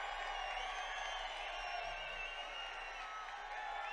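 A huge outdoor political rally crowd roars and cheers in a steady, dense wash of voices heard from a distance, continuous for the whole stretch with no single voice standing out.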